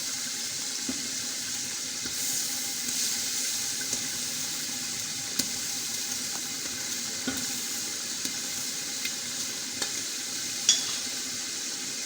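Spiced masala and tomatoes for kadhi pakora fry in a pan with a steady, soft sizzle. Occasional faint scrapes and clicks come through as the mixture is stirred.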